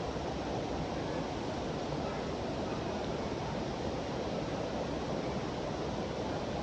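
Curug Sijo, a strongly flowing waterfall about 30 meters high, gives off an unbroken, even roar of rushing water with no voices.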